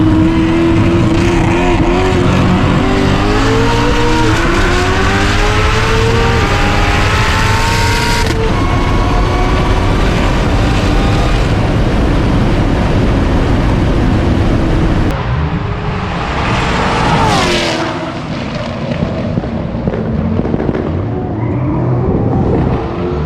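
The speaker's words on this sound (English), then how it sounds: "First up, we're running against a C6 or a C7 Z06 Pro Charged with like 1200 wheel." A 1,000 hp Corvette ZR1 drag races a ProCharger-supercharged C6 or C7 Corvette Z06 making about 1,200 wheel horsepower on a track. A loud, close engine roar climbs through gear changes, drops away, then rises again as a car passes. No voices.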